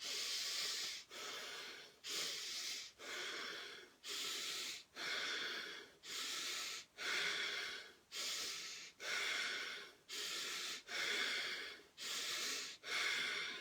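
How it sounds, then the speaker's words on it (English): Deep, fast breathing during a breathing exercise: about a dozen rhythmic, forceful breaths with hissing airflow, evenly paced at roughly one per second, close and loud, with no talking. "So breathing in."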